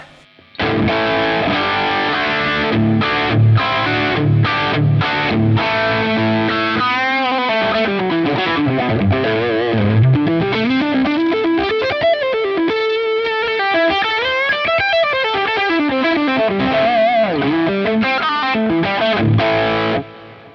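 An electric guitar played through a Boss Metal Zone distortion pedal gives loud, heavily saturated chords and sliding, bending lead lines, alone and continuous for the whole passage.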